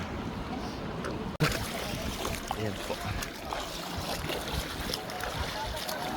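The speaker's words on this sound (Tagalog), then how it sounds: "ang tubig galing sa bukid sa bundok masyadong malakas ang tubig dito kaya kat delikado po" Strong rushing water pouring down from mountain farmland after heavy rain, a steady loud roar with sloshing and splashing and one sharp knock, while a person talks over it.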